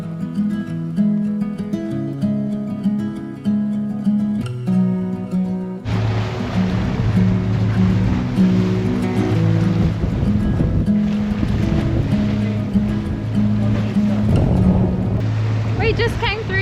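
Waves wash and slosh around a sailboat running through a fast tidal passage at Albany Strait, a loud steady rush with wind noise over background music.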